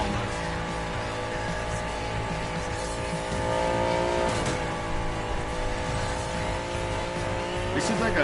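A Pagani supercar in Need for Speed Payback revs and accelerates steadily, its loud sustained engine drone rising in pitch near the end, with faint tyre noise beneath it.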